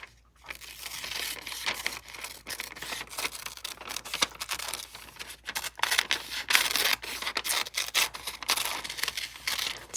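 Scissors snip around a paper Nessie sticker, giving close, crisp crunching cuts in a quick irregular run, with crinkling of paper and backing sheet throughout.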